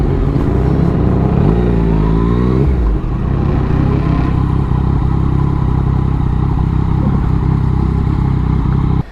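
Motorcycle and car engines idle and rev loudly at a busy gas station with a line of vehicles, one engine climbing in pitch early on before settling into a steady, continuous rumble with some clatter.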